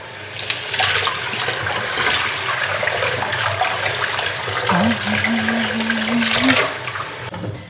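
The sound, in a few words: rinsing under running tap water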